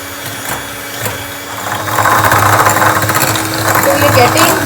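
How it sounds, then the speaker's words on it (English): An electric beater whisks dalgona coffee mixture with a steady, close mechanical whir that grows louder and busier partway through, with no talking over it. "So I will use an electric beater since I want to get this thin thing fast."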